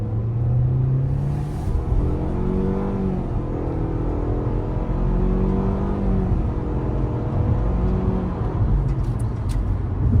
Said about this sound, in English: We'll do a quick 0 to 60 test here. All right, let's see what the performance looks like.